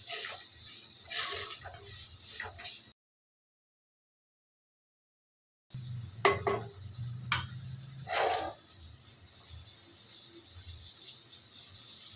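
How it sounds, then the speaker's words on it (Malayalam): Curry ingredients sautéing in a pan, a soft continuous sizzle with scraping stir strokes, close by, broken by a gap of silence partway through. "ഗ്യാസ് ഒന്ന് കൂട്ടിക്കൊട്ടി നന്നായി ഇളക്കി കൊടുക്കുക"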